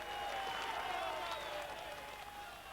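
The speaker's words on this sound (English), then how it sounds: "A big crowd's there." A big crowd at a Third Division football match between Halifax Town and Rotherham United applauds in a steady, distant wash of clapping and crowd noise that eases slightly toward the end.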